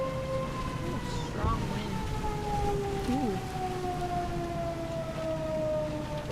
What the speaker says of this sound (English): Obviously, the tornado sirens cannot help that eerie feeling.